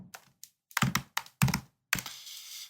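Keystrokes on a computer keyboard as a command is typed to configure an FPV drone in Betaflight: a few quick, close clicks in small bursts with pauses between, ending in a firmer tap, no voices.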